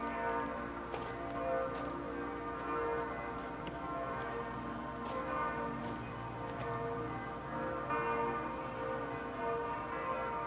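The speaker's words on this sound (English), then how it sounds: "And there are the bells this morning." Church bells ring on a morning in southern Germany in 1989, heard at a distance as a faint, steady wash of overlapping tolls with occasional sharper strikes over a quiet background.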